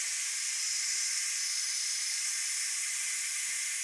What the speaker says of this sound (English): we're just going to slide the valve over to vent and make sure you lift it. And you do get sprayed a little bit,